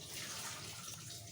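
Tamarind water is poured into mashed potatoes for a lotus root chaat, giving a steady, soft liquid splash and trickle that stays close and continuous, with no voices.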